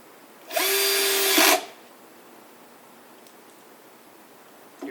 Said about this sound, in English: I found I don't need to drill really deep with the